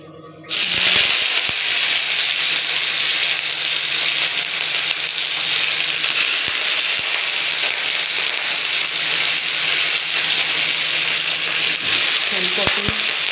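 Cauliflower frying in hot oil with panch phoron five-spice while cooking a fish curry: a loud, steady, close sizzle that starts abruptly and runs continuously, with a faint clatter near the end.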